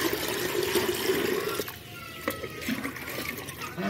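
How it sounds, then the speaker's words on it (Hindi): Water pours into an 8-litre poultry drinker already dosed with medicine for laying hens, a steady splashing fill that breaks off and then resumes with a few lighter trickles and splashes. "पानी मिला देंगे।"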